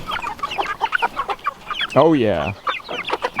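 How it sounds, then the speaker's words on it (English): Backyard chickens cluck and call close by, one loud rising-and-falling squawk standing out, while a person speaks briefly over them. "I'm curious to see if the chickens will eat it for breakfast"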